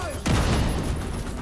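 Turret gunfire in The Secret World during the Operation Iron Horse raid, a sudden loud burst that sets off sustained dense rattling and booming noise over a game soundtrack.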